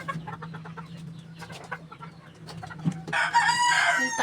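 Pet chickens cluck and squawk in alarm as they are disturbed and flutter off, the calls growing louder and more frantic toward the end, with faint rustling and movement underneath.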